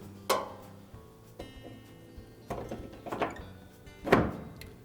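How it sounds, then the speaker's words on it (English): A few dull plastic knocks and thunks as a Whirlpool washer front door cover is hooked on and drops into place, close by and quiet, ending in one firmer clunk. "And the door will drop down and lock in place."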